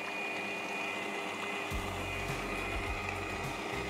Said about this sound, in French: on va monter notre petite crème au batteur. On accélère gentiment.